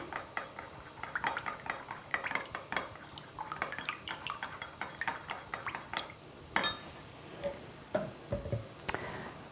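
A utensil stirs aloe vera concentrate into a homemade natural lip balm mixture, giving steady light clinks and scrapes against a small dish with no talking.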